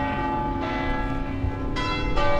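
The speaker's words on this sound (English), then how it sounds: "I love those bells, man." Church bells ring outdoors in a steady, resonant peal, with sustained overlapping tones and fresh strikes at intervals, loud and close with no talk over them.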